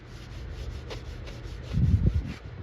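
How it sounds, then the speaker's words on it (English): Hand sanding of the door jambs on a wrecked 2011 Chevy Malibu, heard as close rhythmic rubbing strokes that grow louder and coarser toward the end. "I'm just gonna keep sanding away here"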